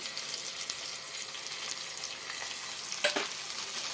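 Cumin and coriander seeds fry in a pan with a faint, steady crackling sizzle, and a brief scrape or stir near the end.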